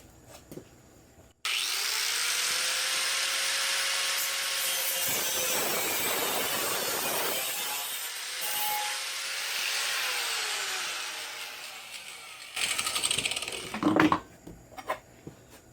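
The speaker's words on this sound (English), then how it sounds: "I'm going to grind that little bit off there." A power grinder cuts down a weld on a patch panel of a 1965 Pontiac LeMans, a close, harsh whine running about eleven seconds with shifting pitch, then short bursts as it stops.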